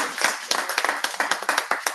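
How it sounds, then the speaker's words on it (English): A small club audience at a festive meeting claps in a round of applause, each clap sharp and distinct in an uneven, lively rhythm, close and fairly loud. "Please, a round of applause for him."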